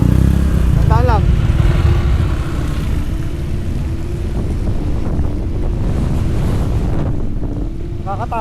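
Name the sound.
strong wind on a mountain motorcycle ride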